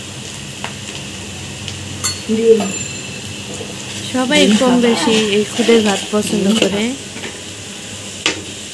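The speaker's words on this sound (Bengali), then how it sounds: "এখন পেঁয়াজটা ভাজা হচ্ছে ভালোভাবে" Onions fry in hot oil with salt added for Bangladeshi khuder bhat (broken rice), a continuous nearby sizzle with occasional clinks while someone talks over it.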